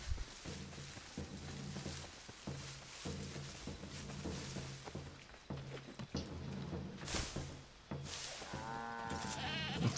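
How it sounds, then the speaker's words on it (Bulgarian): A goat in the video game Assassin's Creed 3 lets out a wavering bleat near the end, over steady rain and low rhythmic game ambience. "Това е коза. Не мога да убивам кози."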